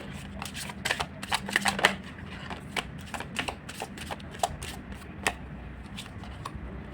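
Tarot cards shuffled and drawn during a love reading: a close, papery riffle of quick snapping flicks and slides, busiest early on and then thinning to scattered card taps, with no talking.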